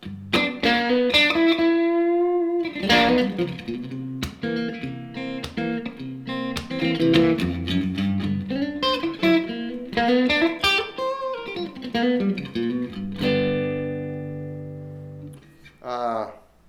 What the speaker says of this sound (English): how the in-between pickup position sounds on a Strat, so it does sound stratty